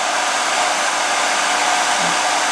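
A hair dryer roars steadily and close during a salon blow-dry of a woman's hair, a continuous even airflow whoosh with no talking.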